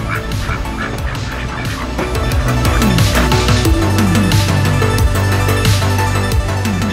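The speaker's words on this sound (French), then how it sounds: "Je crois que je me suis fait des potes là avec les canards et les oies." Ducks and geese in a park in Granada, Spain, honk and quack loudly and close by in a dense, overlapping chorus, with no talk.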